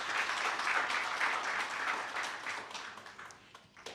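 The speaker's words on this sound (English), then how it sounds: "A round of applause to her." Steady applause from a room of people at a business forum panel, loud at first and gradually thinning out toward the end.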